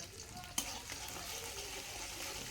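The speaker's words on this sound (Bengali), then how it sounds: "তেলটা গরম হয়ে গেলে এর মধ্যে প্রথমে দিয়ে দিলাম রসুন কুচি" Minced garlic, about ten to twelve cloves, fries in hot oil with a soft, steady sizzle, opened by one brief sharp crackle as it hits the pan; quiet and close.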